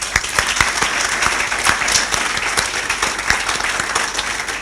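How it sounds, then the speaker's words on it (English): A conference audience at a Ruby programming event in Cape Town breaks into a steady round of applause, dense overlapping claps filling the room at an even loudness throughout, with no voices over it. "So let's give them a round of applause."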